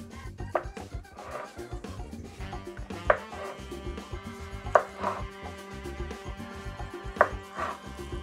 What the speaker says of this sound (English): twice down the length, and then just cutting out tiny little cubes